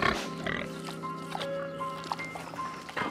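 A pig grunts and snorts in short repeated bursts at close range, under a faint steady tone in the background.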